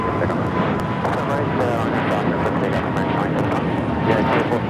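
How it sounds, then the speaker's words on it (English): Breeze Airways flight 709, an Airbus A220-300 airliner, takes off for Pittsburgh with a loud, continuous engine roar, while someone talks over the noise. "This is Breeze Airways 709 taking off to Pittsburgh on the A220-300"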